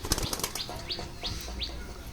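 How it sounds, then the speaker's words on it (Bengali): Pigeons are released one by one, each giving a brief burst of flapping wings, several in quick succession, fairly close over a soft outdoor background with no talk. "কবুতরগুলো এক এক করে ছাড়ছি"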